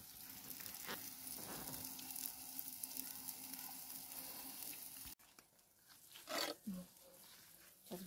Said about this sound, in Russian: Здесь у меня все жарится, готовится.